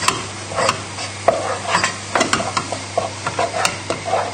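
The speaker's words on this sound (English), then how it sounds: "And now we're going to stir in the butter." Butter being stirred into cooked potatoes in a pot, with a spoon scraping and thudding in an irregular rhythm of soft, close strokes and a faint steady hum underneath.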